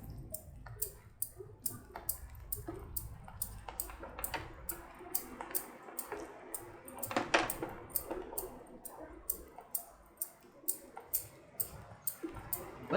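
Cooling sugar stirred steadily in a pan with the gas off for besan laddu, giving faint repeated scraping clicks and light ticks at a steady pace, close but quiet.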